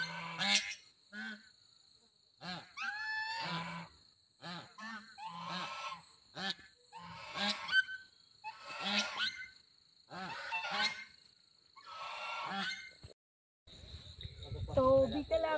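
Ducks call outside a monastery at evening, giving repeated honking quacks in irregular bursts at close range, with insects buzzing faintly and a brief rustle at the end.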